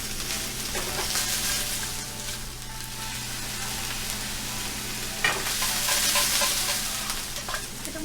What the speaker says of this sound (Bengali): আবারও সুন্দর করে সবকিছু একসাথে মিক্স করে নিব এবং নেড়ে চেড়ে নিব।